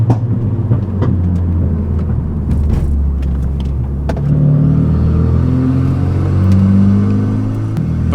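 A Renault Megane RS hot hatch drives through tight, twisty corners, its engine droning loud and close with shifting pitch as it revs and eases between bends.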